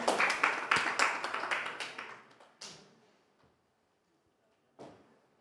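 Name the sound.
audience clapping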